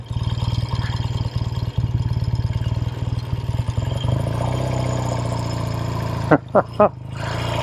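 A 1969 Triumph Daytona 500 vintage motorcycle engine on the move, a loud, steady, pulsing drone close by, ending in a few sharp throttle blips, with no talking.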